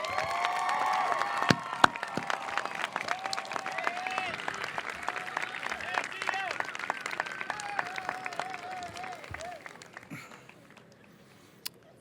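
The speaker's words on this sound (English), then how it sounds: "please join me in giving a round of applause to your family and our school" An outdoor high school graduation crowd applauds and cheers for families and school staff, sustained clapping with scattered shouts and whistles that gradually tapers off near the end.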